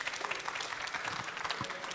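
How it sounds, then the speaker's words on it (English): Audience applause at the close of a main-stage conference talk, steady clapping from a crowd filling the whole stretch at moderate loudness with no voices over it. "Give them another round of applause, and thank you all."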